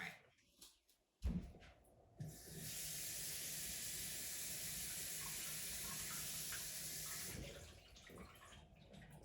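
Water runs steadily from a tap for about five seconds, a soft hissing stream that begins after a few clicks and handling noises and then cuts off, with no talk heard.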